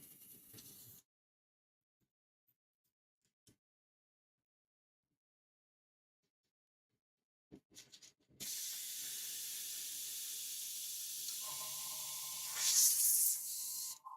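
An airbrush sprays varnish in a steady close hiss that starts abruptly after near silence, with a brief short burst at the start and a louder surge near the end.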